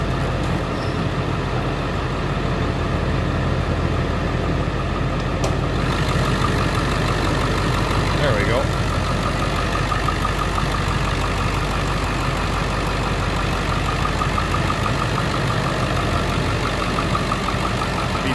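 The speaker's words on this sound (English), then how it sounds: "Just want to let you hear it run." A 2001 Ford F-250 Super Duty with a 7.3 liter Power Stroke turbo diesel idles steadily, a continuous close, even rumble with a faint whistle on top, no voices over it.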